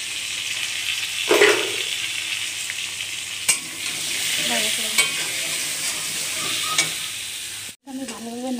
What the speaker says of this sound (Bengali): আমি ভালোভাবে নাড়াচাড়া করে ভাজা করে নিয়েছি